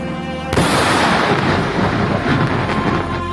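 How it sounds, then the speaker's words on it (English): Airstrike explosions hit in a war zone: one sudden heavy boom breaks through a low background hum, followed by a sustained rumbling roar with faint crackles rolling on for several seconds. "Just a very quick video clip of a number of the airstrikes since Monday, just to show the ferocity."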